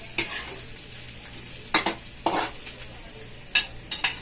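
Ginger is stirred in a hot pan as higado is being cooked, with a faint sizzle underneath. Several sharp scraping strokes of a utensil against the pan stand out, close and brief.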